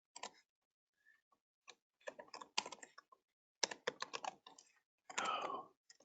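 Typing on a computer keyboard comes in irregular bursts of crisp key clicks separated by short pauses, fairly close and quiet, with no one talking.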